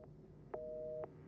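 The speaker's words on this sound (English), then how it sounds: "dial tone." A steady electronic dial tone from a telephone handset in the Resident Evil 7 video game, a single faint half-second tone bracketed by soft clicks.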